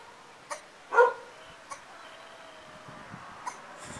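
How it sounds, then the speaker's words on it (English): A dog with a hoarse, voiceless bark gives several short breathy huffs: one stronger rasp near the start, then fainter, evenly spaced puffs over a quiet room, with no talking. "What's up with the dog that can't bark?"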